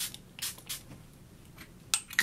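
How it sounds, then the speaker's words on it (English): Short hissing bursts of Make Up For Ever Mist and Fix setting spray misted onto a face, a few quiet puffs spaced apart with two sharper sprays near the end, heard up close in a quiet room. "so I'll just spray my face with this and see what happens."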